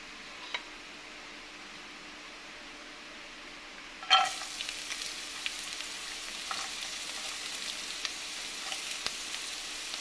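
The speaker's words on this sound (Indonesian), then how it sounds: "Kemudian masukkan bawang bombay dan bawang putih." Onion and garlic hit hot olive oil midway and break into a steady close sizzle of sautéing, with a few small crackles; before that there is only a faint hum of room noise.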